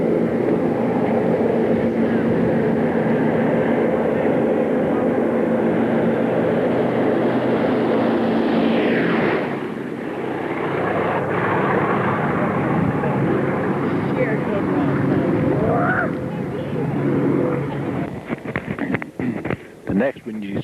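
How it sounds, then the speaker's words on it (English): A P-51 Mustang fighter roars past at an airshow, a loud sustained engine drone that swells and shifts in pitch as it passes, with a commentator talking over it throughout. "this is a P-51 coming in now"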